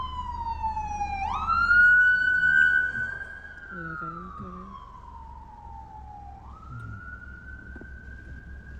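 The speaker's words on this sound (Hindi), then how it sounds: "तो ये एम्बुलेंस की आवाज़ आ रही है" An ambulance siren wails in long rising and falling tones, fairly close, over traffic rumble at a red light, with a brief distant voice in the background.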